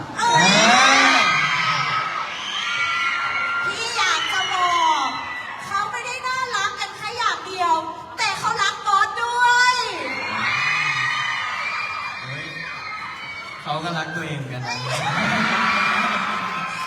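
A crowd of fans at a live event in Chanthaburi, Thailand, screams and cheers loudly in high-pitched waves, with talking heard over the crowd throughout.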